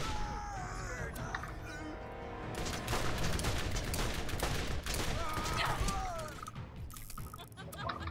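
Heavy gunfire in the video game Borderlands: rapid bursts and overlapping shots crackle continuously at close range, with impacts and crashes mixed in and voices talking intermittently over the fight.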